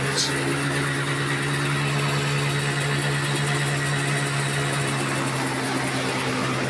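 A rebuilt car engine with a massive air leak runs loudly and continuously close by, a steady throbbing drone with a rough mechanical hum.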